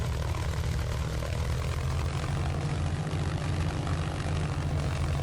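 Propeller engine of an A6M5 Zero in Microsoft Flight Simulator 2024, a steady, loud, close drone with a deep throbbing rumble and a broad rushing hiss, unbroken for the whole stretch.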